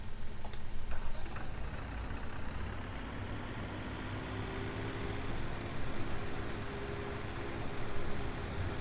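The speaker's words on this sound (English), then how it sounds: "Let's get the bigger tractor though." A tractor engine idles steadily in Farming Simulator 17, a low continuous rumble with a faint tonal hum, quiet and unbroken.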